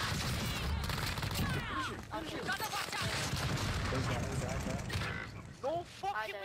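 Dense Warzone gunfire crackles continuously in an in-game firefight, with voices talking over the steady barrage of shots.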